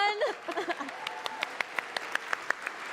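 An audience at the Independent Games Festival Awards at GDC claps in a steady patter of applause, with a voice briefly calling out at the start before the clapping continues.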